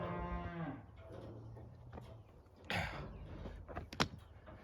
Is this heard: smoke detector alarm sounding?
no